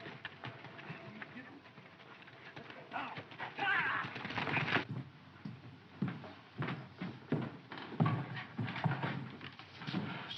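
Horse hooves clip-clop in an irregular rhythm, moderately close, with rustling and some talking mixed in.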